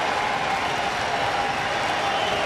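Baseball crowd applauding a pitcher late in a night game, a steady wash of clapping and cheering that stays loud and even from start to finish, with no clear voice over it.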